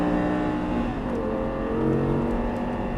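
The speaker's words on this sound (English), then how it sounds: "Get it real tight to the inside and back in the gas. Okay, and upshift." An Audi R8 race car accelerating on a track, its engine drone rising steadily in pitch, then dipping and climbing again through an upshift, loud and close throughout.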